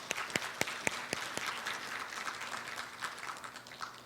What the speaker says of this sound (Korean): 여러분 좌장님을 큰 박수로 맞이해 주십시오.